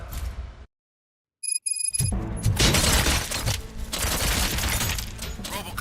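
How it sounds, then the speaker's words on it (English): In the game RoboCop: Rogue City, a short silence breaks into a loud crash of shattering and booming impacts, followed by a sustained chaotic barrage of gunfire and debris. "Gunshots? What's going on?"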